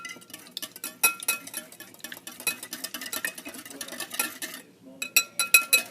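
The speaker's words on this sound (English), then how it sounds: "you're gonna grab a whisk and then you're gonna just stir up the eggs" Eggs whisked with a whisk in a bowl, a rapid run of close metallic clinks and scraping taps that stop briefly before resuming, with no talking.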